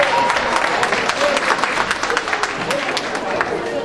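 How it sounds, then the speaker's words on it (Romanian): Audience at a children's anniversary performance show applauds, a steady, loud patter of many hands clapping with some crowd murmur underneath throughout. "să-i aplaudăm"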